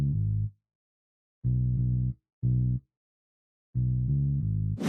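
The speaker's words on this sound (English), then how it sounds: "The preset that I'm using is 5-string fingered bass" A 5-string fingered bass preset plays a hook-variation bass line for a hip hop remix: short, deep, sustained note groups separated by gaps of silence. It sounds clean and alone, with a brief click at the very end.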